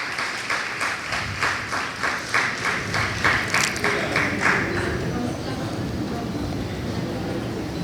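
An audience claps to welcome four psychiatrists at a medical centre event. The applause is steady and rhythmic, falling into an even unison beat, then fades after about five seconds into low room noise.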